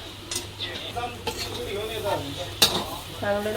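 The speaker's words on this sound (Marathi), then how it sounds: "ढवळूया." Spiced vada pav potato filling stirred in a pan with chilies, masala and salt, a spoon scraping and clinking against the metal in short strokes over a low hum, with a few spoken words in the background.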